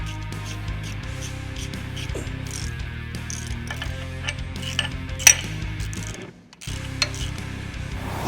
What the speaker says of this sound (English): we're going to take these 2 bolts out of the differential